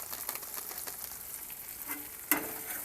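Spices sizzle in hot oil in a pan while being stirred for a banana flower chop, a soft, steady frying crackle with a few scraping clicks and one sharper clink near the end.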